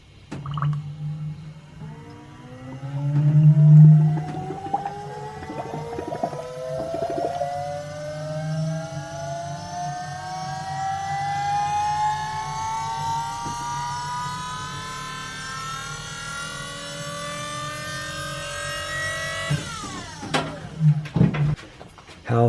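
An Astra electric power steering pump, fitted to a Datsun 1200, whirs steadily with a rising whine that climbs in pitch over about twenty seconds, loud and close, before cutting off near the end.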